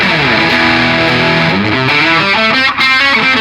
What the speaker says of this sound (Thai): เดี๋ยวลองกันที่เสียงแตกนะครับ คือใช้แตกจากตู้เลยนะครับ